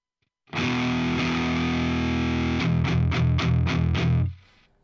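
High-gain distorted electric guitar through a Distortion Plus pedal stacked on another drive, played alone: a long sustained ringing chord, then a run of rhythmic chugged stabs before cutting off.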